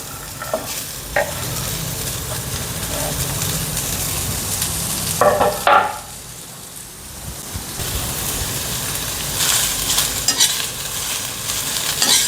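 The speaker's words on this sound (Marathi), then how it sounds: "चला आता हा कांदा आपण भाजून घेऊ" Chopped onion dry-roasting and being stirred in a pan or kadhai for spicy Maharashtrian misal, a steady soft sizzle with scraping stir bursts around the middle and near the end, no talking.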